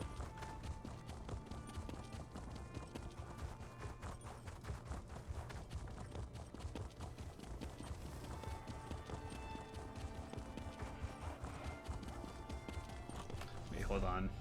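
Steady clip-clop of horse hooves from a mount ridden in The Elder Scrolls Online, a continuous rhythmic trot carried along over game music and ambience.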